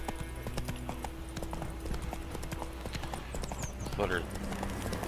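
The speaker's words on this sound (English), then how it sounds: "This horse is not an easy thing to control here." Horse hooves clip-clopping in The Witcher 3 game, a steady run of hoofbeats with a brief whinny near the end, mixed with game ambience.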